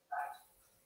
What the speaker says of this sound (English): it's the dumbass dogs barking at absolutely nothing